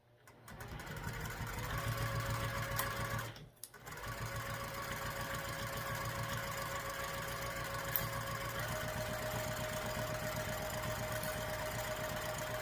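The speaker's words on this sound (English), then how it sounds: "we will sew this on with an 1/8 inch seam allowance just to baste it" A sewing machine runs steadily, basting a curved lining piece onto a backpack with a narrow 1/8 inch seam allowance, its close motor hum and needle rhythm broken by one brief pause near the start.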